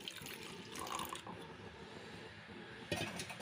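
Two tumblers of milk are poured into a pot of rice cooking for akkara adisal, a sweet dish: a continuous close splashing pour with a brief louder gush near the end, no talking.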